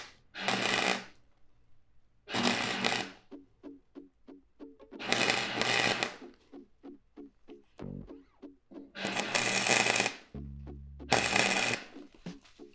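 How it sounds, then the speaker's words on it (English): A welder lays short bursts of tack welds to fill holes in a sheet metal body panel: five crackling, buzzing bursts about a second each, separated by quiet gaps with faint clicks, close and clear. "we're just gonna hit some more tacks to fill up the hole on either side of the bridge."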